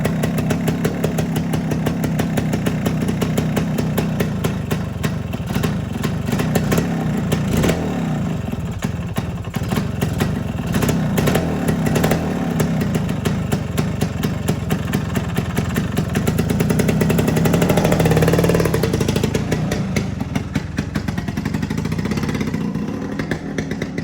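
An old Suzuki motorcycle that sat unused for 25 years runs continuously. Its loud, close engine chugs with a rapid, slightly uneven putter, and the revs rise briefly near the end.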